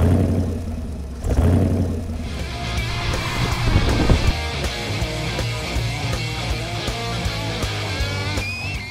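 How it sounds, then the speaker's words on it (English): V8 engine of an EcoCAR3 competition car at a student vehicle competition, a loud rumbling roar that rises as the car accelerates away, with a whirring tone and wind noise on top. "We have a V8, and we're the only team with a V8, and it's fantastic getting to hear that roar"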